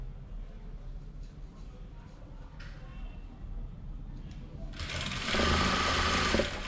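A sewing machine stitching a kameez starts up near the end, a loud rapid whirring burst after a quieter stretch with faint voice-like sounds.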